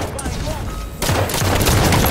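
Rocket launcher firing in a multiplayer shooter video game, a quieter stretch followed by a loud, dense burst of blasts and gunfire that stays sustained to the end, with chatter in the background.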